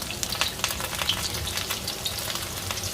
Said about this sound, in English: Slide into the oil.